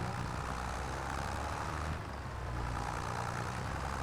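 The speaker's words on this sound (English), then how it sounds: "Looks like the tractor's struggling a little bit" Tractor engine in a farming video game, straining under load with a weight on the back, a steady low rumbling drone at moderate level with no talk.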